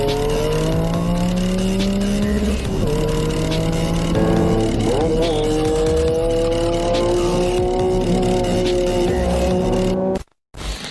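A 1992 Honda NSX in the Forza racing game drives hard, its engine loud and close, climbing steadily through gears with rising pitch and tire squeal mixed in, before cutting out abruptly near the end; no talking.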